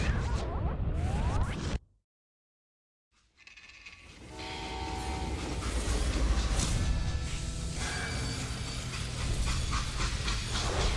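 A freight train in the video game Call of Juarez Gunslinger rumbles loud and close after a brief dead silence, a broad, continuous roar of rolling wagons with whooshing and rattling layered over it.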